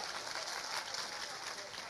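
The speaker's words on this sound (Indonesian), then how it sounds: "Kita berikan tepuk tangan kepada beliau." An audience at an outdoor religious sholawat gathering claps for a cleric, a faint, steady patter of applause that sounds distant and blurred under a murmur of crowd noise.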